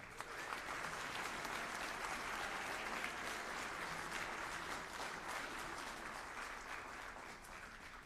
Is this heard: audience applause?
yes